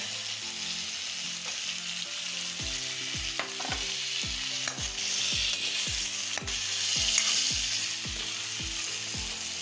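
Mixed vegetables with brinjal and carrot frying in oil, a continuous close sizzle with a repeating mechanical clicking pulse running underneath, no speech.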